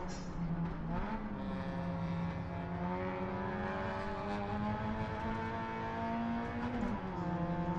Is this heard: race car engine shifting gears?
yes